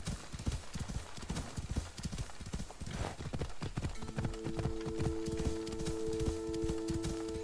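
Horse hooves clip-clopping in a steady trotting rhythm as a rider travels through marshy terrain in a video game, continuous and close, with a brief whinny-like tone and a sustained musical hum entering partway.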